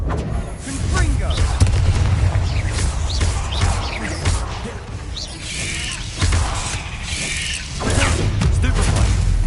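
Blasting fire spell and combat effects from the Hogwarts Legacy video game, with booming bursts and whooshes over a dense rumbling mix of game sound and music.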